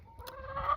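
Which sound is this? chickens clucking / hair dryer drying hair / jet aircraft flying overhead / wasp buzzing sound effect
chickens clucking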